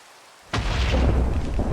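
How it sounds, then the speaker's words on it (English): A loud explosion in the modded Minecraft world of Statech Industry bursts in after a near-silent half second, then a broad, rumbling roar holds steady to the end with no talk over it. "why do I hear such loud explosions up top?"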